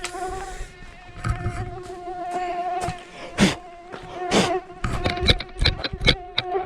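Mosquitoes in the Florida Everglades at Shark Valley, Miami, whining close by with several buzzing flybys that swell loud and fade, plus faint rustling and movement, no talking.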